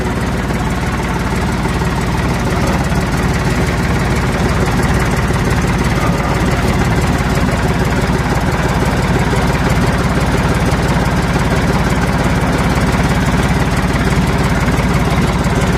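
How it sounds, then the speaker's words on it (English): A 1985 John Deere 350C crawler loader runs its engine steadily while raising the bucket, a loud, close, continuous diesel chug with a knocking texture and constant vibration throughout. "Now I'm going to lift the bucket."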